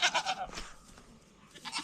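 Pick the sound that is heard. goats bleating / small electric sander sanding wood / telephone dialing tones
goats bleating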